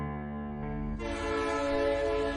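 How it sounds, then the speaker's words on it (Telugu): A train arrives at a station platform, its steady drone swelling and brightening as it draws nearer, ending loud and sustained. "అరుణ్, ట్రైన్ వస్తుంది, వెళ్దాం పదా."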